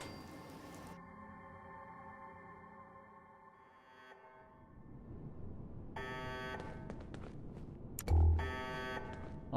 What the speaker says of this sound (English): Already alarms going off.